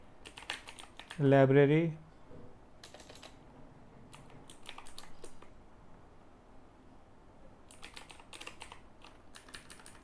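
Quick clusters of clicky key presses on a computer keyboard, typing into a Visual Studio search bar, come in short bursts with pauses between, close and moderately soft, after a brief spoken word.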